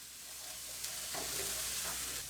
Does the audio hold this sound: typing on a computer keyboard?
no